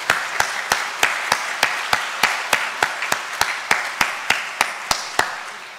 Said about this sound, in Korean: 우리 뜨거운 박수로 환영을 하겠습니다.